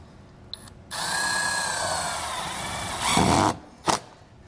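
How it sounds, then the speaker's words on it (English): A power drill drives a self-tapping screw through an RV awning rail and the bead holding the canopy, a steady whine for a few seconds that rises briefly in pitch near the end, followed by a short final burst, close and alone. "we're going to drive it straight through the rail and through the bead that is holding the canopy inside the rail"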